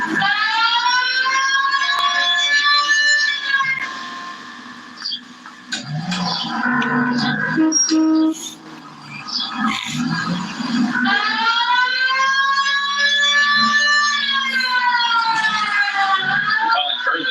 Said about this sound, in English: When I hear my sirens, get the fuck out of the road